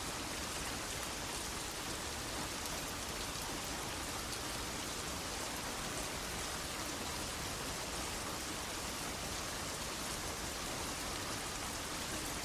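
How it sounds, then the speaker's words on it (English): Steady rain falls in a dense, even hiss with no breaks, fairly loud and close, filling the whole stretch without voices. "I love rain, don't you?"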